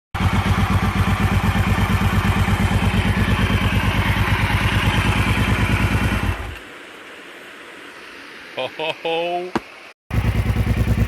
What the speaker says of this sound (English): With it building pressure, my four-wheeler's cutting out and coming back.